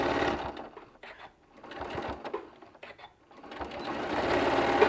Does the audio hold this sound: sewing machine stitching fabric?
yes